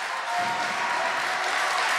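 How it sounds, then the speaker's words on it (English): A wrestling arena crowd roars and applauds as a performer makes his entrance, a dense, steady wash of cheering and clapping that holds at a constant level throughout. "And the fans go nuts"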